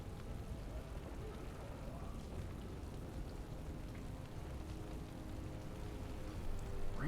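Steady rain falls in Dragon Age Origins, a low, dense wash of patter that runs quietly and continuously in the background with no talking over it.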